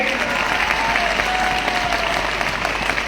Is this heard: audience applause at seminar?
yes